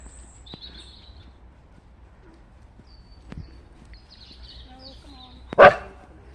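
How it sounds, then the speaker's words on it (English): A single sharp dog bark rings out near the end, after a long stretch of quiet with faint bird chirps, at an outing where several dogs are kept on leashes. "No playing with dogs allowed. Especially not barky dogs like you."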